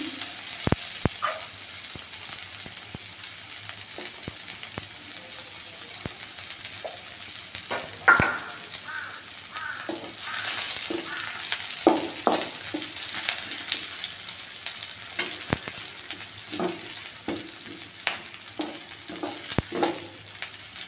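Onion and garlic fry in oil with cumin, cinnamon and cardamom, a soft steady sizzle under repeated scraping and tapping of a spoon stirring the pan, fairly quiet throughout.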